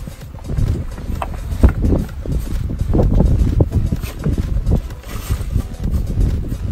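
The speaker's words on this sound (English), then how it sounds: "ooh, it's windy up here." Strong wind buffeting on a cliff top in Acadia National Park during rock climbing, a loud continuous low rumble of gusts hitting the microphone throughout.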